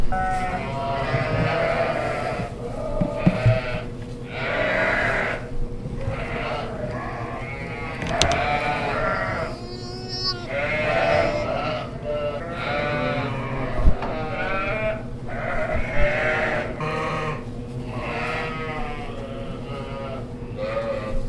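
A flock of sheep and young lambs bleating over and over, many overlapping calls near and far on a farm during cold lambing weather, loud and steady throughout with a voice speaking at times among them.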